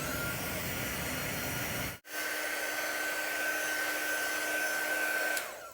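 Heat dryer drying ink on a craft project, a loud, steady whirring blast of air that cuts out briefly once and then runs on alone.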